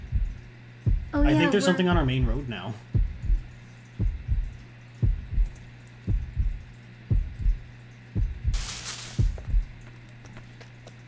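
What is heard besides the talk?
heartbeat sound in Yomawari 3 video game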